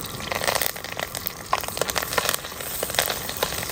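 Crushed garlic and curry leaves frying in a spoonful or two of ghee with a little oil, a steady close crackling sizzle with scattered sharper pops throughout.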